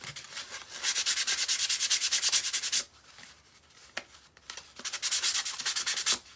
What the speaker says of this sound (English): You can sand as little or as much as you want.